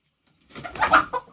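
A chicken gives a short, soft cluck-like call, a brief burst after a moment of near silence.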